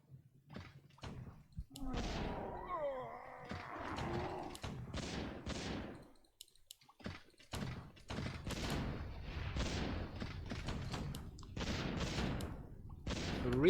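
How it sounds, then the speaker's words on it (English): Warcraft III mortar teams shell an altar, their shots landing as repeated, punchy thumps and bursts in an irregular rhythm, with a brief voice partly over the early shots. "Three mortar teams working on the altar."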